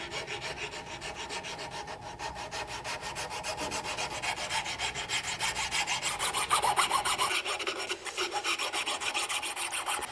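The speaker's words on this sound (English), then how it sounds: "As you're filing both sides down" A file rasps rhythmically across the string grooves of a wooden bow, steady close back-and-forth strokes repeating evenly for about ten seconds with no talk.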